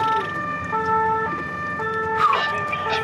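An emergency vehicle's siren wails with rising and falling tones on a busy Paris ring road at an accident scene, fairly close over steady traffic noise, with no talk.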